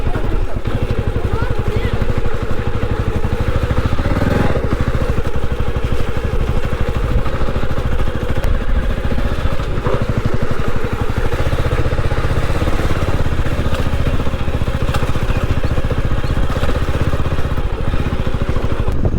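A motorcycle engine runs steadily throughout while riding over a muddy, littered road where the wheel slips, a loud, continuous mid-pitched drone with some clatter, and a voice talking over it.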